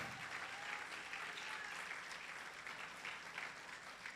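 Church congregation applauds steadily, a dense wash of many hands clapping that holds at an even level throughout, fairly distant and with no voices standing out.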